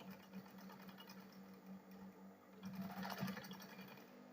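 Sewing machine stitching a ladies backpack, a steady humming run of stitches throughout that grows a little louder and busier toward the end, close by with no talking.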